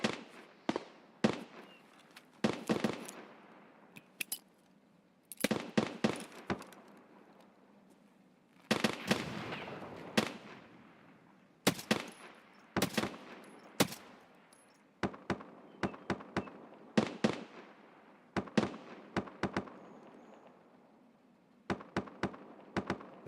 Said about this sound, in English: Is the BTR firing at them?